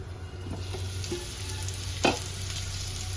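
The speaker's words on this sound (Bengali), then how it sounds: "সবজিগুলো আমার হালকা করে ভাজা হয়ে গেছে" Mixed vegetables fry with salt in a pan, giving a low steady sizzle with a few soft stirring scrapes and one sharper clink of a utensil midway, heard alone with no talking.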